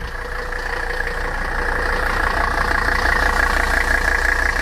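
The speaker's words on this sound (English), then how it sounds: "just how loud this car is when it's idling" A loud Mercedes diesel engine idles close by, a steady rough clatter with a deep rumbling drone that holds constant throughout.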